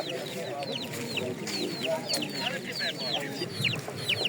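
Many chickens cluck and chirp together in a busy, continuous chorus at a town market fair in Berdychiv, with people murmuring quietly in the background.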